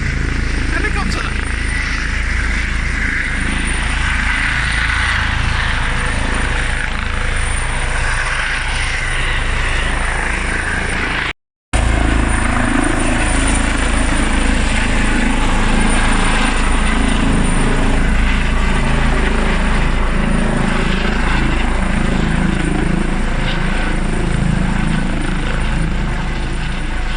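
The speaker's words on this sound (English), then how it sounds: "Helicopter!" A helicopter's rotor thumps and drones continuously overhead for a long stretch, loud and steady, with a brief cut partway through and talking over it.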